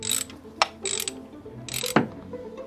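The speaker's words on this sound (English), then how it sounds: "Now, let's get this ground wire off." A ratchet wrench loosens the ground wire on an alternator, giving several short bursts of close clicking with brief pauses and a metallic clunk near the end.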